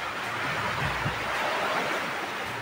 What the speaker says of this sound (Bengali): দেখো বন্ধুরা জলের ঢেউ কোন পর্যন্ত করে আসছে